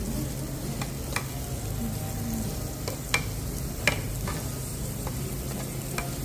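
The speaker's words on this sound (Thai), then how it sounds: "เดี๋ยวจะค่อยๆย่างเนื้อทีละอย่างนะคะทุกคน" Meat sizzles steadily on a Thai moo kratha grill pan at a buffet restaurant in Korea, a constant close frying hiss broken by sharp clicks and taps of utensils against the pan.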